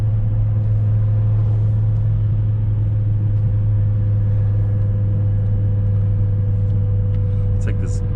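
BMW E60 M5 wheelspinning under traction control at barely quarter throttle, a loud steady engine drone with deep rumble heard from inside the car, tire noise blended into the roar.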